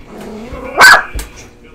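A single loud, close dog bark rings out sharply over quiet background, followed by a softer short yip or huff, with a voice faintly present beneath.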